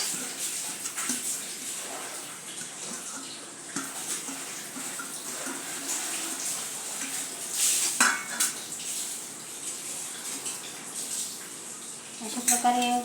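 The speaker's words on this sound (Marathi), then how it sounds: "अशा प्रकारे आता एक मोठे भांडे घेतलेले आहे, त्यात सर्व चॉप केलेल्या भाज्या घालून घेऊया।" Chopped vegetables tumble into a large pot, producing scattered clattering knocks and scraping of utensil against metal, with louder clunks near the middle and end, and no talking.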